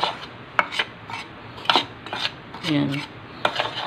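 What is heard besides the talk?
stirring pancake batter with milk, margarine and vanilla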